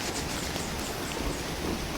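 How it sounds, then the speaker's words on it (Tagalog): Heavy, intensifying rain falls near a river, a steady, broadband roar with no pauses or breaks across the short stretch. "lalong lumalakas talaga yung ulan"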